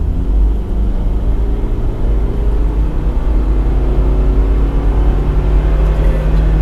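A 2014 Subaru Legacy 2.5i in Sport Sharp mode accelerating at full throttle, heard from inside as a loud, steady engine drone with a deep rumble and rising tones, continuous throughout with no talk.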